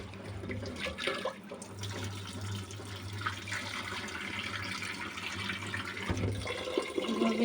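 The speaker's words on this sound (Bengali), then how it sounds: "আর এদিকে আমি পোলাও চালটা ধুয়ে নিচ্ছি" Polao rice washed in water, with continuous soft splashing and running water close by, a low steady hum beneath, and no talk.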